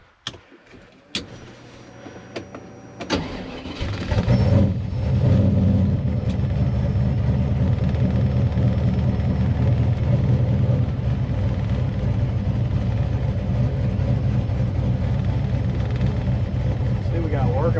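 A car with an LT1 engine starts out with clicks and a brief whir, like a power window. Then the engine settles into a steady, loud running drone as it drives, with voices talking over it.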